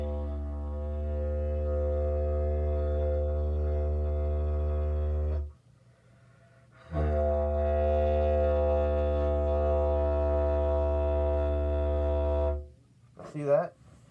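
Soft, steady didgeridoo drone with a deep low fundamental and stacked overtones, blown in two long sustained tones separated by a breath pause, the second swelling slightly louder, ending with a brief high wavering sound.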